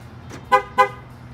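A car horn toots twice in quick succession as a diesel car is remotely started, each short and close, with a faint low hum underneath and no talking.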